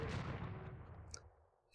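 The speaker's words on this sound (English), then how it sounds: "3 demos went off here and the monument lost 3 HP." Demolition units blow up in the Age of Empires video game, making a faint, rumbling burst of explosions that rolls off and fades over a couple of seconds.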